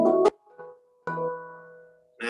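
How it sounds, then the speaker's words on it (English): Handpan, a hand-played inverted steel drum, sounding a few ringing metallic tones with soft strikes and sustained, decaying notes, close and alone. "basically they're like an inverted steel drum from Trinidad"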